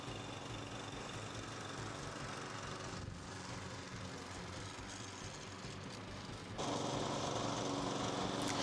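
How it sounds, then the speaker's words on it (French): A GRIN HM46A lawn mower runs steadily while mowing grass, its engine a loud continuous drone that jumps in intensity near the end, with no voices. "Le moteur démarre très rapidement. Je peux commencer à tondre la pelouse."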